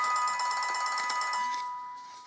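A phone ringing with a bright electronic tone, fairly faint and fading out after a couple of seconds.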